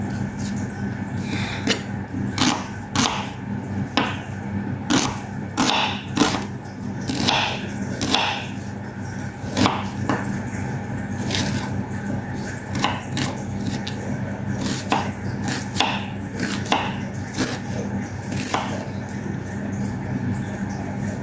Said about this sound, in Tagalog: Sunod naman natin hiwain na yung ating sibuyas.